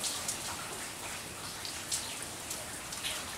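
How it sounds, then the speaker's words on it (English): Steady rain pours down in front of olive trees, a dense even hiss with occasional louder drops spattering nearby; no voices. "Maybe you can see the rain falling"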